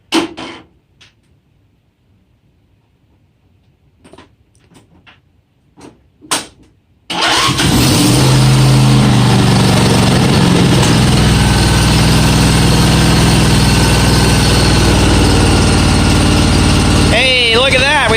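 A John Deere LA175 lawn tractor with a Tuff Torque transmission sits through a few quiet clicks, then its engine cranks and catches at once and keeps running loud, close and steady at idle. Voices are heard faintly.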